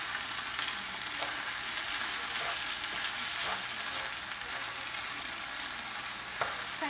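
Rice fries with onion in a pan, a close, steady sizzle and crackle running throughout with a few faint stirring scrapes.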